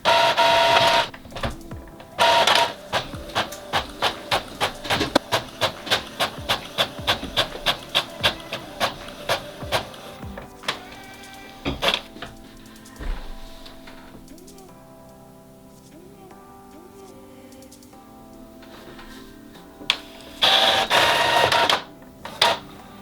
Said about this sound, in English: this 4-page document that we're going to be printing double-sided